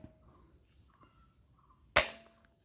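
Colourful toy bead shooter gun firing once, a single sharp loud crack near the end after a quiet stretch with faint background noises.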